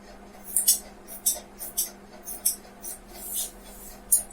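Scissors snip through blouse fabric during tailoring, making a run of about a dozen crisp, close cutting clicks at an irregular pace over a low steady hum.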